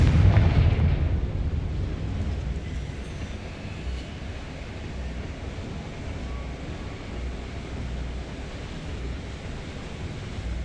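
A Confringo fire spell explodes in Hogwarts Legacy, a loud blast at the start that decays into a long, rumbling low roar fading under steady ambience.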